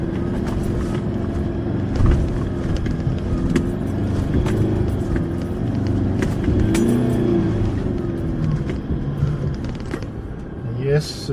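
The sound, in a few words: 4WD vehicle climbing a hill in low range second gear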